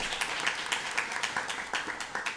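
Scattered, irregular clapping from a small audience at a State Board of Education meeting greets a board member, individual claps distinct and uneven over a light room hiss with no speech.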